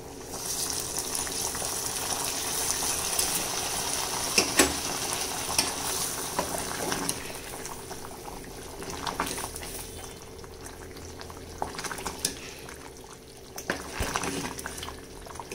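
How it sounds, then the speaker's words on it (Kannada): Garlic tempering poured into boiling red amaranth sambar, giving a steady close sizzle and bubbling with occasional sharper crackles and stirring clinks, fairly quiet and without talk. "ಈಗ ಇದಕ್ಕೆ ನಾನು ಪ್ರಿಪೇರ್ ಮಾಡಿರೋ ಬೆಳ್ಳುಳ್ಳಿ ಒಗ್ಗರಣೆ ಹಾಕ್ಬಿಡ್ತೀನಿ"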